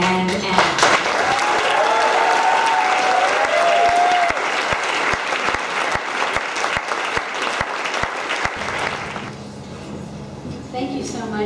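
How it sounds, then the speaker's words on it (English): A large audience applauds at an evening event as women are welcomed to the stage, with dense clapping and scattered cheers that thin out toward the end as a voice begins. "Please give a warm round of applause for Susan,"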